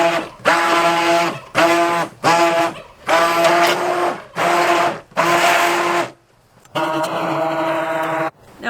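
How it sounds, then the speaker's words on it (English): A stick blender whirs in loud bursts through goat milk soap batter, cutting on and off about eight times in an uneven rhythm, close and with no talking. "Now I do a combination of using the stick blender and the spatula"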